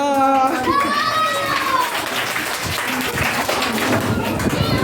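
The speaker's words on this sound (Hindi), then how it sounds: "पहले तालियां।" Loud clapping from a game-show studio audience fills the scene, steady and continuous, mixed with cheering voices and music over several seconds.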